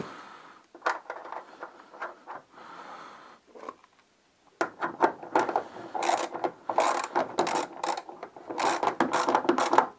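A wrench working the last nut off a Citroën 2CV, a few ratcheting clicks at first, a short quiet gap, then a long busy stretch of rapid close metallic ratcheting and scraping.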